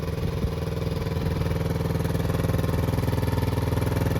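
A 1971 Honda SL70 motorcycle engine putters at a fast even idle, its small single-cylinder beat rising slightly as the throttle is blipped, close and steady.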